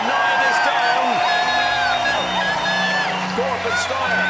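Crowd cheering and whooping at a professional nine-ball pool doubles match as the 9-ball drops, a dense, steady roar with raised voices throughout.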